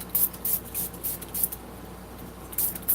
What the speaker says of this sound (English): That's what I call wig spray.